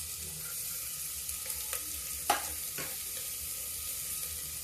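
Onion and garlic frying in oil for a pumpkin curry, a steady close sizzle with a few small pops and crackles of stirring, no voices.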